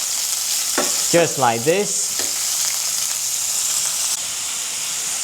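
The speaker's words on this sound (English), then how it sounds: "Sear the beef in a hot pan." Beef searing in a hot pan in batches for a Cantonese stew, a steady loud sizzle running throughout, with a voice speaking briefly over it near the start.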